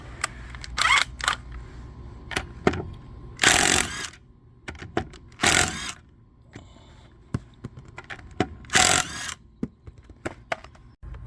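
A power tool works on the rear wheel of a 2000-2006 Chevy Impala, firing several loud, harsh bursts of about half a second each between sharp metallic clanks and clicks.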